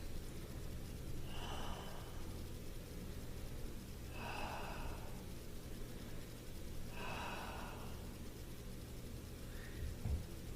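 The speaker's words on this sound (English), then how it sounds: "3 deep breaths." Three slow, deep breaths during a kneeling toe and quad stretch, evenly spaced and close, each a soft airy rush over a steady low hum.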